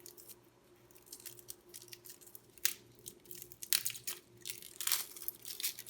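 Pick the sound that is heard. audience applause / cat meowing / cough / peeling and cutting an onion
peeling and cutting an onion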